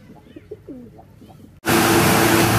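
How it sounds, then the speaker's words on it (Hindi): A few soft coos from a Golden Teddy Sialkoti pigeon sound close by amid quiet background, then a loud burst of broadband noise cuts in and continues. "ये वाला कबूतर"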